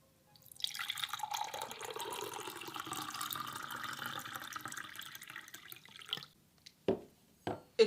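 A glass is filled with water in one continuous, close pour lasting several seconds, followed by a few sharp knocks as the glass is set down.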